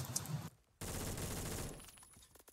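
Rapid automatic fire from a Phantom rifle in a video game, a sustained burst after a brief pause, close and loud, trailing off into scattered shots.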